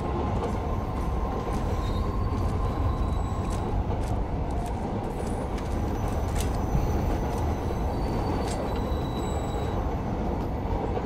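A loud train rushes past in Call of Duty: Modern Warfare, a sustained heavy rumble with clattering wheels and metallic squeals, constant and close for the full stretch with no voices.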